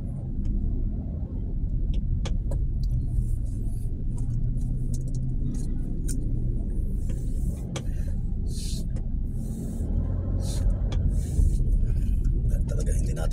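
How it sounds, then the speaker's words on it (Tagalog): Car driving through Metro Manila traffic, a steady low road rumble and engine drone filling the whole stretch with scattered sharper traffic noises above it, close and continuous. "kapag tayo ay magmamaneho dito sa Metro Manila"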